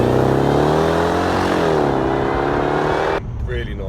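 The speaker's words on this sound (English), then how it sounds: "the exhaust note on it's nice." Supercharged V8 exhaust of a Jaguar XJR, a loud steady engine drone with rising harmonics as it accelerates, close by, then dropping away abruptly near the end.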